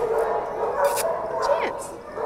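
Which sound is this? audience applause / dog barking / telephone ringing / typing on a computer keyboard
dog barking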